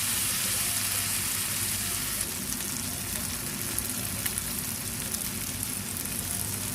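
Green chillies sizzle and fry steadily in a pan of hot oil while squid is being made into a spicy fry, a dense continuous crackle with occasional stirring and no talking.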